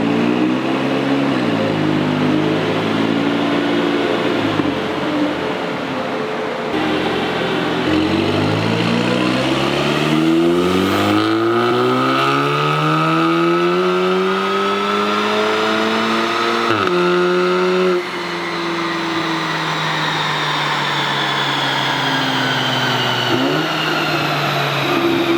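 An Audi S3 with a Stage 2+ tune makes wide-open pulls on a Mustang chassis dyno. The engine revs loud and close, climbing in long sweeping rises through the gears with brief dips at the shifts, and no one speaks.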